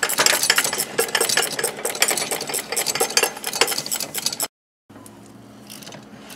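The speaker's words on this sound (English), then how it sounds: "we're going to start with this wrench, and we're just going to tighten all these things down" A wrench tightens bolts on an engine bracket during a Honda 1.7L timing belt and water pump job. Dense, rapid metallic ratcheting clicks run close up for about four seconds, then cut off to a low hum.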